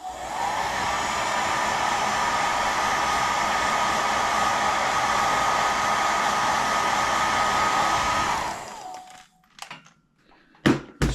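A heat gun or hair dryer blows a loud, steady rushing hiss for about eight seconds while heat-setting paint on a craw-style fishing lure, then cuts off, followed by a few light knocks and clicks.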